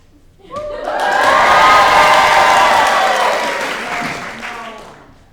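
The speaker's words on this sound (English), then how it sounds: "Children cheering sound effect." A crowd of children cheers and claps together, swelling to a loud sustained roar for several seconds before gradually fading.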